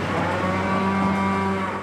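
Cattle moo loudly and steadily inside a livestock transporter, one long sustained low bellow carrying through the whole moment, close and without speech.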